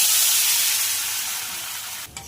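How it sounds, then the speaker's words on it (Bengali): Water hits hot spice masala in a pan, setting off a loud, steady sizzling hiss that fades slightly and then breaks off with a faint clatter. "এটা কষানো হয়ে গেছে, এইবার আমি দিয়ে দেবো জল।"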